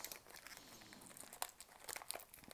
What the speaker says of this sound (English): I hate to tear the packaging, but there's a big-ass sticker on the back that makes me not get to open this correctly.